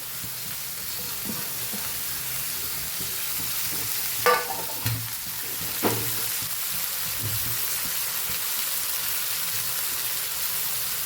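Cabbage, carrot and chillies stir-fry in a hot pan for Gujarati sambharo, giving a continuous crackling sizzle broken by a few sharp spatula scrapes and knocks.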